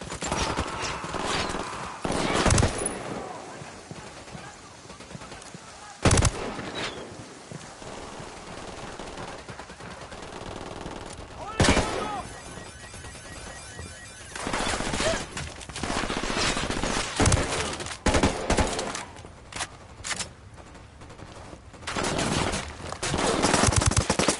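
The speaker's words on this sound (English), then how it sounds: "I'm opening fire on these shitheads." Gunfire in Ghost Recon Wildlands: repeated bursts of automatic shots and sharp single cracks spread across the whole stretch, loud and close, with brief lulls between volleys.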